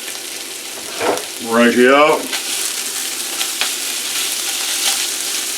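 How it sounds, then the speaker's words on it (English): Food sizzles steadily in a pan as it is stirred, with occasional scrapes and clinks of the utensil; someone speaks briefly over the frying. "Just stirring that around."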